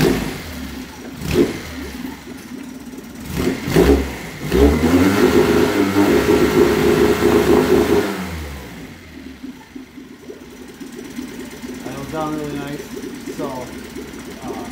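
A Mercury 9.9 outboard motor converted to run on propane revs up and settles back as the throttle is worked, a loud, steady engine drone with surges, heard alongside a voice talking.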